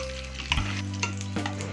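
Oil tempering of urad dal, mustard seeds, dried red chilli and curry leaves with cumin, giving a steady close sizzle broken by sharper spluttering crackles as the spices hit the hot oil.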